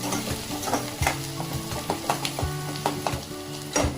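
Onions frying in a pan until golden: a constant close sizzle with repeated scraping stirs of the spatula, loud and free of voices.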